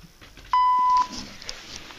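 Competition timer on an athlete's run at a national championship: a single loud, clean electronic beep held for about half a second, rising sharply out of a quiet room.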